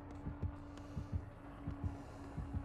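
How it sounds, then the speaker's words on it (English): Killer's heartbeat warning in the Dead by Daylight video game: a steady, low, throbbing double-thump repeating about every half second over a constant hum, fairly quiet and with no talk. "Yeah, I hear his heartbeat, too. He's near me."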